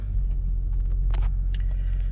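Infiniti G37 coupe engine idling after a push-button start, a loud, steady low rumble close by, with a few faint clicks and taps from inside the cabin.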